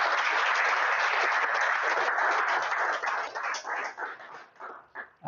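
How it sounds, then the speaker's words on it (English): Sustained applause at a startup incubator demo day, dense and loud for about three seconds before thinning into scattered claps that trail off toward the end. "Another round of applause."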